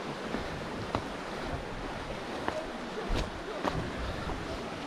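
Sea surf washes continuously over a rocky beach below the cliffs at Gurzuf in Crimea, a steady broadband rush with a few soft splashes rising out of it, heard from nearby.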